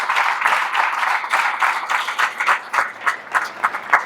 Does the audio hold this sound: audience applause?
yes